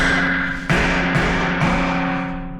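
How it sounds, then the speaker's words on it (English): Three sharp metallic hammer strikes on a block of wood against a seized rear brake rotor of a BMW M550 ring out at spaced intervals over a steady mechanical hum, each blow leaving a brief ringing decay. "Got a little block of wood, hammer."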